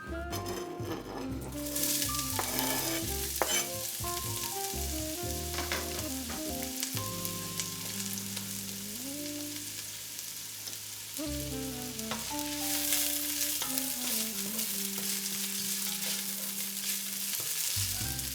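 Onions and meat frying in olive oil over medium-high heat with occasional stirring, a steady close sizzle joined by background music with scraping stirs throughout.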